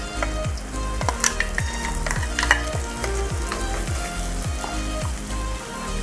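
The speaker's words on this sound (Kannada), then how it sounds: "ಈರುಳ್ಳಿ ಫ್ರೈ ಆಗಿದೆ, ರುಬ್ಕೊಂಡಿರೋಂಥ ಮಸಾಲೆ ಹಾಕ್ತಾ ಇದ್ದೀನಿ." Ground masala fries with onions in a pan, giving a steady, dense sizzle with repeated rhythmic scraping strokes from stirring and scattered crackling pops, close and continuous, with no voices.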